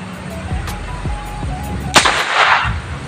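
A homemade marble gun loaded with regular marbles fires one loud sharp blast up close, followed by a brief airy rush, with steady low background noise before and after.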